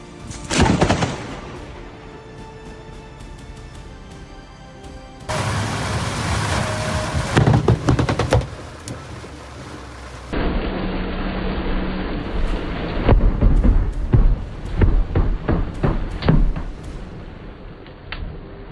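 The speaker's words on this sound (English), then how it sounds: "lightning is always a serious danger during storms" A thunderstorm with heavy rain and rumbling thunder comes through several abruptly cut segments, with loud cracks and booms over a constant hiss of falling rain.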